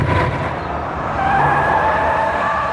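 A car taken fast around a corner, its engine roaring steadily with a rising whine and a hint of tire squeal, loud and close from start to finish.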